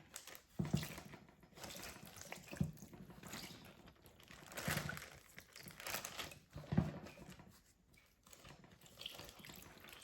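Water poured over bean sprouts sprouting in a container, a soft splashing trickle in several uneven bursts with faint crinkling in between, close and quiet.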